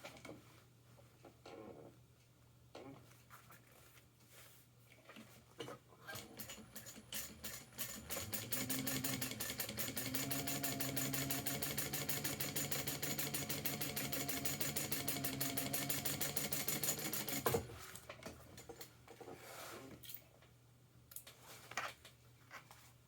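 A sewing machine top-stitches along a fabric side panel, whirring in a long steady run of fast even stitching after a few short bursts and clicks, then stopping abruptly, near and clear with no voices.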